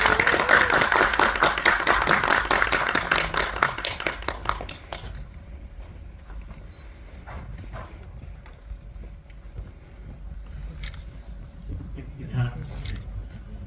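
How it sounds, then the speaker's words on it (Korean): Audience applause greets a film's producer and director at a Korean stage greeting, a loud burst of clapping for about five seconds that then drops away to quiet room noise with faint scattered sounds. "큰 박수로 환영 부탁드리겠습니다."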